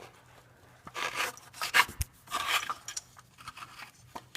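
Drive belt being pulled off an engine pulley on an Infiniti G35/Nissan 350Z, heard as close, faint scattered rubbing and scraping with a few sharp clicks and taps.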